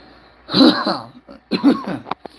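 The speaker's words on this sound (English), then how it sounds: "Pardon my cough, please." Two close, loud coughing bursts a second apart, each a rough throaty hack, followed by a few small clicks.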